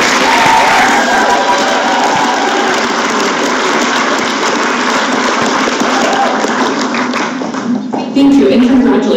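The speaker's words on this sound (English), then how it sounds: "Let's do one more round of applause for all of our award recipients." A closing assembly crowd at the 2017 California 4-H State Leadership Conference applauds its award recipients. Sustained, dense clapping fills the hall steadily for several seconds and fades briefly near the end before swelling again.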